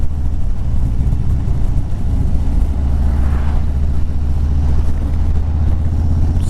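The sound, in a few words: strong wind blowing into microphone outdoors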